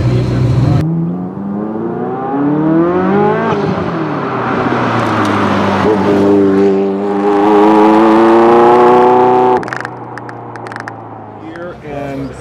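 A Ferrari F40's engine revs in rising and falling sweeps, loud and close, with a brief drop near the end, while voices talk over it.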